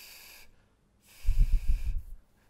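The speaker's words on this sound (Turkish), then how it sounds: "Buna sıcak nefes deniyor ki sıcak hava geliyor." Warm, open breath blown out as for flute playing, two soft airy exhalations, the second a louder breathy gust lasting under a second, close to the microphone and heard alone.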